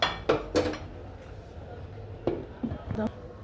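Metal clanks and clinks as a lid is set onto a cooking pot of semai in milk, a few sharp knocks spaced out over a quiet kitchen, with a person talking in between.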